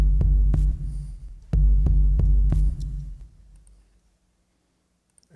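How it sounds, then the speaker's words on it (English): A hip hop mix with compressor ducking plays a deep, pumping kick pattern of heavy, evenly spaced thumps that swell and suck back, then fades to near silence. "ducking one with the compressor. You can really hear it sucking"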